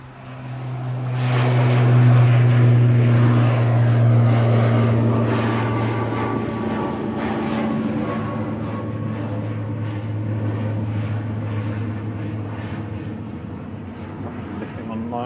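An ATR 42-500 turboprop airliner departing Manchester Airport, a loud sustained propeller drone with low steady tones that swell in the first seconds then hold and slowly ease as the plane climbs away.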